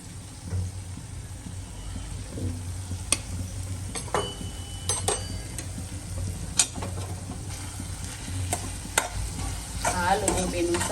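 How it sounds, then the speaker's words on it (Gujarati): A spoon stirs potato and cauliflower curry with chili powder in hot oil, giving scattered close scrapes and taps against the pan over a low continuous sizzle, with no talking. "હવે મરચું ફેરવી દઈએ"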